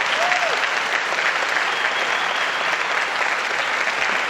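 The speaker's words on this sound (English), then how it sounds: "let's give this man the type of applause that he richly deserves" Sustained audience applause at a summit fireside chat, a dense, steady wash of clapping held at even loudness for several seconds, with a faint voice briefly audible early on.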